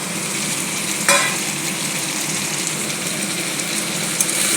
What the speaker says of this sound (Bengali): মাংসটাকে ভালো করে কষিয়ে নিতে হবে।